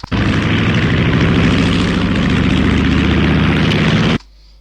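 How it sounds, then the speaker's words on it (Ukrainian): Old propeller crop-duster plane engine sound effect, a loud, continuous rumbling drone with a throbbing low pulse, starting abruptly and cutting off near the end. "Ще такий якийсь цікавий звучок. Як кукурузні колись такі були літаки."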